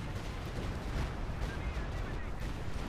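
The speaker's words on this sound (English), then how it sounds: "Stukas of Fus unleashes hell, 6 rockets." Stuka rocket barrage in the strategy game Company of Heroes 2: a dense, rumbling volley of rocket impacts and explosions rolling continuously, heavy low boom throughout with overlapping blasts.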